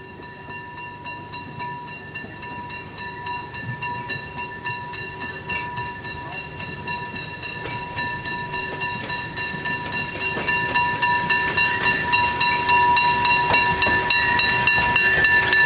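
A Pressnitztalbahn steam train arrives at a station in summer, its rhythmic chuffing and clanking of rail cars growing steadily louder and closer over the span, with hissing steam and sustained tonal squeal, no talking.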